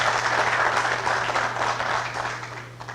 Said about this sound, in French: Alors Saïd Ben Sbersou, un applaudissement.